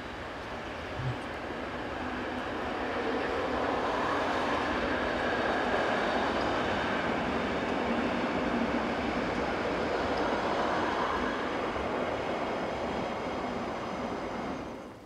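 A Rhaetian Railway train on the 0850 service from Landquart to Scuol-Tarasp, with a freight wagon at the rear, runs past in a steady, broad rumble that swells and holds for several seconds before easing slightly, with no voices.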